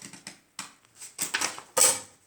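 Several short, crisp snipping sounds of scissors cutting through paper, close by and irregular, with no voices.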